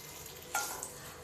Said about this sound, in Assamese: এতিয়া আমি তাতে দি দিম তেজপাতা খিলা